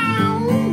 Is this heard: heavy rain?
no